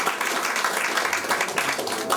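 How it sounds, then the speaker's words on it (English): At a 40th anniversary celebration, a crowd cheers and applauds in a dense, continuous roar of clapping and voices with no pauses. "Big cheer for TL and all the crew."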